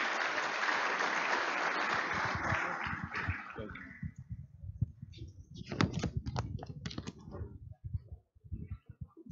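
An audience at a school's 90th anniversary inaugural service applauds as a speaker mounts the stage, with thick clapping for about four seconds that fades into scattered single claps and knocks.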